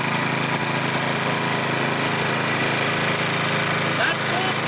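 A Toro lawn mower engine runs at full throttle while pushed uphill, a steady, loud, continuous drone with no break and a faint rattle of vibration underneath.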